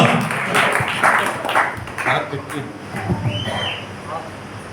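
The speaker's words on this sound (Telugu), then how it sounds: "సంతోషంగా చప్పట్లు కొట్టండి ఒకసారి." A church congregation claps joyfully during a service, a dense patter of hands mixed with voices and talk that swells and fades over several seconds.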